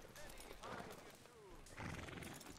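Horse in the video game Red Dead Redemption 2 whinnying and snorting with hoof clip-clops, heard at low level and mixed with someone talking.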